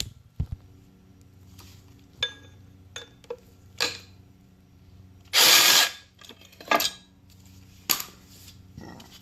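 A ratchet loosens 10 mm bolts on a Porsche 911 or Boxster water pump, giving sparse clicks and metallic clinks close by, with one brief louder burst of quick ratcheting near the middle.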